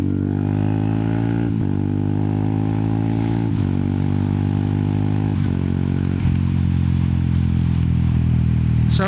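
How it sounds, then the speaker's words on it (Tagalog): Yamaha XSR 155 motorcycle engine running steadily up close, with several sharp momentary dips and surges at regular intervals as the rider blips the throttle through downshifts, harmonic engine drone continuing throughout. "And downshifting is the other way around. You blip the throttle."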